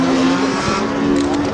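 An Audi A1 rallycross car races at a rallycross event in Lessay, its engine a loud, close, sustained roar with a steady droning pitch throughout.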